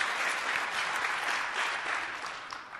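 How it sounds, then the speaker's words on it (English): Sustained audience applause at the SharePoint Conference 2014 after a live app-building demo, a dense, steady wash of clapping that holds at even strength throughout with no voices over it. "didn't expect the applause"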